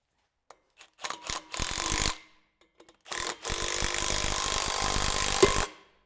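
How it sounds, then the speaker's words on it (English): Two bursts of harsh rasping, the second long and steady, as 8mm bolts are threaded into the removal holes of a brake rotor on an FJ Cruiser, with a few sharp clicks before each burst. "I'm going to take two 8mm bolts and I'm going to thread them into these removal holes."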